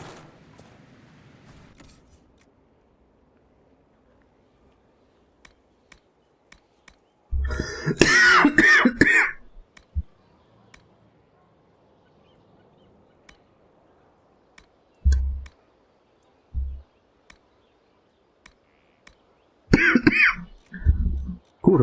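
A person coughs and clears their throat in several short bursts, a loud cluster of harsh coughs in the middle followed by isolated throat clears and another coughing burst, with near silence between.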